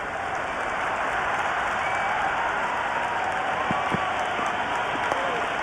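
A cricket crowd in the Cricket 26 video game keeps up a steady wash of cheering and applause-like noise throughout, moderately loud with no pauses.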